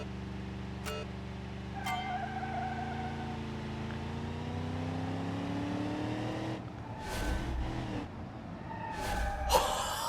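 Ramp truck driving a lap in BeamNG.drive, its engine droning steadily with rising pitch as it accelerates, a couple of sharp knocks early on and louder bumps or impacts toward the end.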